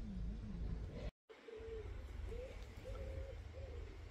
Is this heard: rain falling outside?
no